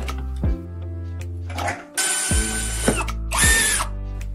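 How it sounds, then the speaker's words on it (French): Power drill boring a hole through a wooden dowel clamped in a vise, a steady loud motor whine with two bright, harsh bursts as the bit bites into the wood, plus a few clicks between runs. "Fixez une cheville dans l'étau et percez un trou dedans."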